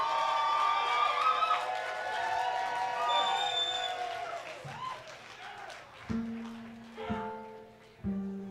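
An audience at a blues and jazz show cheers and claps in a broad, lively wash that gradually fades, giving way to a few spaced, resonant band notes.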